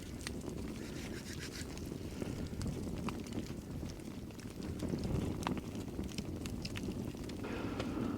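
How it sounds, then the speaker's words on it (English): Strong winter wind gusts outdoors below freezing at an old pioneer house, a broad rushing roar with buffeting that swells partway through, plus scattered crackling sounds. "That wind picked up for a second."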